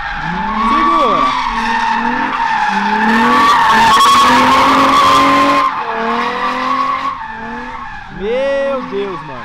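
Car drifting in the Free Fire video game, loud tire squeals and skidding with rising and falling engine whine in repeated bursts, with a brief noisy crash in the middle.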